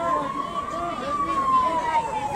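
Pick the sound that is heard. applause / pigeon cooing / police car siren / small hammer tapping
police car siren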